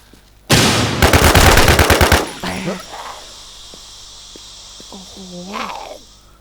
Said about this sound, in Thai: นี่คือการยิงคนครั้งแรกของผม